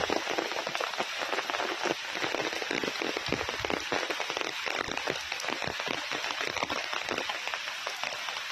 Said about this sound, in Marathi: गेले दोन दिवस कंटिन्यू दोन दिवस हा पाऊस चालू आहे